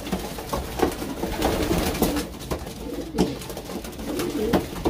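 Racing pigeons, prize-winning birds kept in a loft, coo repeatedly in soft, overlapping low calls, close by and steady throughout without any talk.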